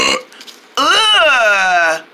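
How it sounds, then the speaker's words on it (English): A long, loud, gurgling burp from an animated pig in a 3D holiday film trailer, preceded by a brief voice and rising into a drawn-out tonal belch. "You burped."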